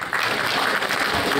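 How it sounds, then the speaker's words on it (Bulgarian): An audience applauds at a cultural event honouring an architectural complex, a brief burst of dense, continuous clapping from a crowd, loud and close. "Аплодисменти за комплекса за Жени Михайлова."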